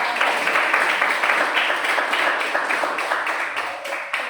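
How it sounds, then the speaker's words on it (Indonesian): A classroom group gives a round of applause for the first presenting team, many hands clapping in a dense, steady patter that fades slightly toward the end. "berikan tepuk tangan untuk kelompok 1"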